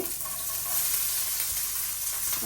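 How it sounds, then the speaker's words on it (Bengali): Chopped onion frying in a pan on low heat, a continuous close sizzle with a soft crackle, heard alone for a couple of seconds. "এখন পেঁয়াজটা ভেজে নেই"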